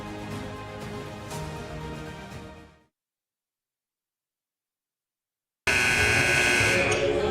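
A gymnasium buzzer at a men's college basketball game between CWC and Eastern Wyoming College sounds loud and sustained at the start, cuts to silence, then returns with dense crowd or music noise.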